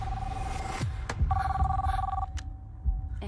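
A mobile phone rings with a repeating electronic trill, short bursts separated by brief gaps, clear and fairly close over a low background rumble, with no one speaking.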